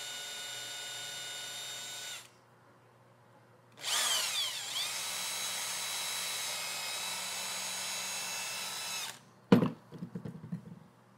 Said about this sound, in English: I need to drill it up more.